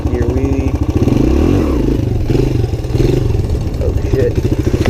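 A Suzuki DR-Z 125 pit bike revs hard through a second-gear wheelie, its loud, close, buzzing engine rising and falling in pitch, with a rider's voice mixed underneath.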